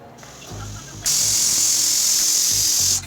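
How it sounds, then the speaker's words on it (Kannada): A pressure cooker on medium flame cooking dum vangibath lets out a sudden loud hissing whistle of steam that holds steady for about two seconds, then cuts off. "ಮೀಡಿಯಮ್ ಫ್ಲೇಮಲ್ಲಿ ಎರಡು ವಿಷಲ್ನ ಕೂಗಿಸ್ಕೊಂಡು ಬರಬೇಕಾಗುತ್ತೆ"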